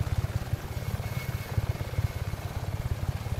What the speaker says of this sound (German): da fliegt auch schon ein Heli